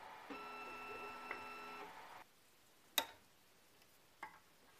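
A Zonestar 3D printer runs its self-test, stepper motors whining with steady tonal hums as the axes move, then stopping, followed by a couple of sharp mechanical clicks in a quiet room.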